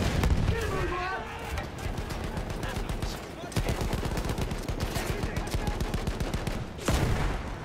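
Rapid bursts of gunfire from the video game Battlefield 1, loud and dense, with repeated shots and booms crowding the mix almost throughout.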